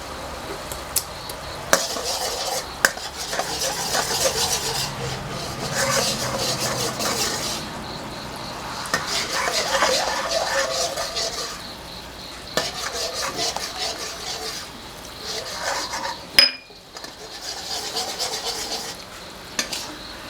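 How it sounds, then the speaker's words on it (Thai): Sweet fish sauce simmering in a pan is stirred steadily with a soft bubbling sizzle and scraping strokes throughout, close and moderately loud, with a brief sharp knock near the end. "เคี่ยวให้มีความหนึบนิดๆนะคะ ต้องหมั่นคนนะคะ เพราะว่าเดี๋ยวน้ำตาลจะติดก้นกระทะนะคะ"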